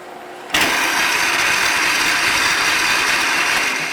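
A Hobart 80 quart planetary mixer switches abruptly to its high-speed setting, jumping into a loud, steady mechanical whir and rattle that holds constant, close and without talk.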